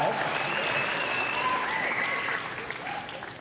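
A crowd at a Trump event applauds steadily, with the clapping fading somewhat toward the end and voices audible underneath.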